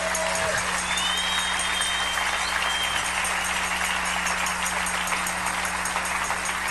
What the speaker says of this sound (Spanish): Denle fuerte el aplauso al Rey de Reyes